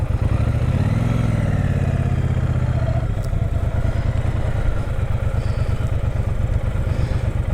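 Triumph Speedmaster 1200 motorcycle riding through rural hills, its engine a loud, steady low rumble throughout with a swelling rev early on, plus constant wind and road noise.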